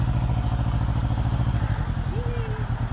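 A 2021 Can-Am Ryker three-wheeled motorcycle backs up in reverse, its engine running as a steady, close low rumble throughout, with people talking over it.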